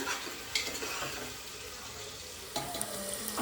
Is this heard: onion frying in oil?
yes